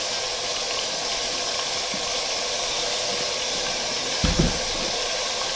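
A chuck roast sears in a pressure cooker with a steady, loud sizzling hiss, broken near the end by a brief low thump.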